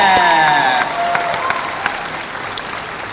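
A convention crowd at a Stranger Things panel in Kansas City claps and cheers, loud dense applause at first with whoops, then thinning to scattered sharp claps as it fades.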